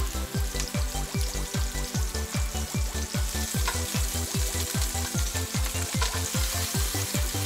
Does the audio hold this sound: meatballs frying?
yes